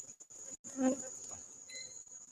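A steady high-pitched buzz of honeybees droning close by at a hive in a bee yard, with a louder swell partway through and brief dips into quiet.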